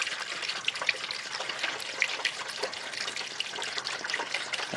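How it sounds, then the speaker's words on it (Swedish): Water trickles steadily into the washer fluid reservoir of a 2000–2008 Volvo V70, a close, continuous splashing pour with no voices. "så att vi fyller i lite vatten här"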